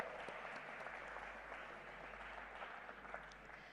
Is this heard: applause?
yes